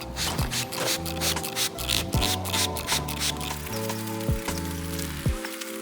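Water sprayed onto 7-inch NAO LED off-road light bars patters and hisses like heavy rain close by, while a low electrical hum drones steadily beneath.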